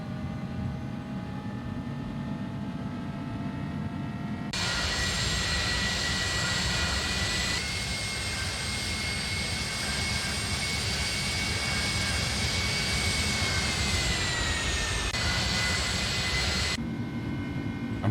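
Jet engines of an Airbus A300-600R freighter spool up to takeoff power in a flight simulator, a loud steady roar with whining tones that rise and shift in pitch, continuing without talk.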